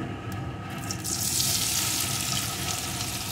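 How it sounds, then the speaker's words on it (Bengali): Soybean chunks dropped into hot oil in a pan, the frying swelling into a loud, bright crackling sizzle after a brief quieter start, then holding steady up close. "এই তেলের ভিতরে আমি সোয়াবিনগুলোকে দিয়ে দেব"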